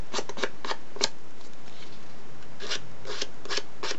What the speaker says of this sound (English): You can just run your scissors backwards and forwards, and it just really distresses and breaks down the fibres of the card.